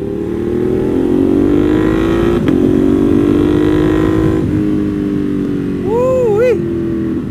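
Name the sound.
modded motorcycle engine while riding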